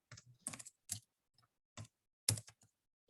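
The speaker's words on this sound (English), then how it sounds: "you can go ahead and start typing their email." Keystrokes on a computer keyboard come in short, close bursts of clicks separated by brief pauses while an email is typed, quiet and with no talking.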